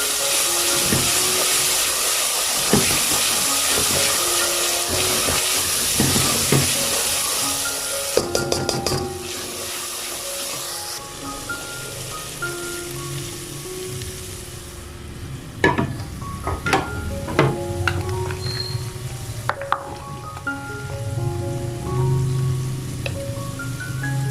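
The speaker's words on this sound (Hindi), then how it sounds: "सूखा धनिया, साबुत ज़ीरा इनको भी अच्छे से फ्राई कर लेंगे।" Dried coriander seeds and whole cumin frying in a pan with dried red chillies, steady loud sizzle throughout with occasional stirring scrapes and metallic knocks of the spoon, no voices.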